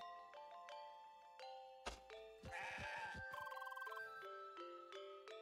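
Cartoonish goat bleats from the video game CrossCode, a few short tonal calls amid chiming game sound effects and a jingle, with no talking.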